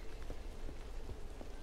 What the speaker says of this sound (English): Oh, it's raining. Okay, I wasn't sure what that noise was.